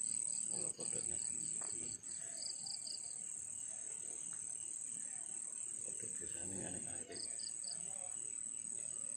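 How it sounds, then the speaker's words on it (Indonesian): Crickets chirp at night in a steady, high, continuous trill, faint and spread across the background, with occasional pulsing bursts and soft voices murmuring underneath. "Selain jengkrik, kayak walang malam."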